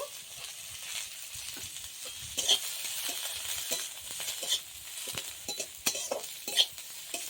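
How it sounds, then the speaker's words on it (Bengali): Shredded cabbage, grated carrot, green peas and chopped capsicum lightly frying in a wok for veg momo filling, a steady soft sizzle with scattered clinks and scrapes of a stirring spoon throughout, close and alone. "হালকা করে একটু ভেজে নেব।"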